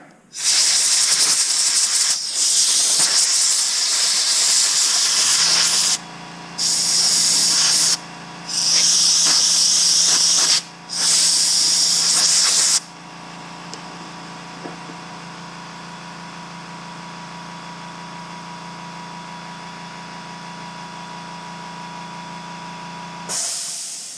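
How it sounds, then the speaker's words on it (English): Compressed air hisses in loud bursts from a blow gun while cleaning Tekno EB48 2.0 RC shock parts washed in Simple Green, with several long blasts and short gaps, then a steady quieter hiss alone. "I'm going to blow it off with some air"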